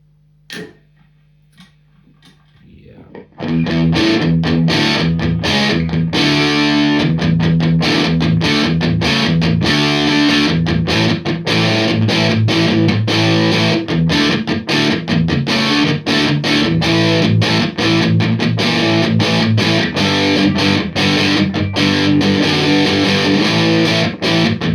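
Electric guitar played through an old Marshall JTM30 amp with distortion, harsh crunchy chords and picked notes ringing loud and continuous after a few quiet string taps at the start.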